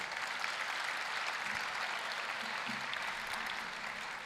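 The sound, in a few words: graduation audience applause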